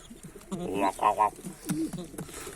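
Adana pigeons coo nearby in soft, throaty bursts, a few rising and falling calls amid light rustling, with a voice partly overlapping them.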